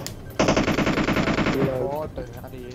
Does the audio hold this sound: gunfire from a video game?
yes